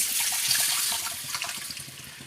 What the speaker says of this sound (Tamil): நம்ம இப்போ கரைச்சி வச்சுருக்க புளி தக்காளி சேர்த்து கரைச்சி வச்சுருக்கோம் இல்லையா அதை இதில் ஊற்றிட வேண்டியதுதான்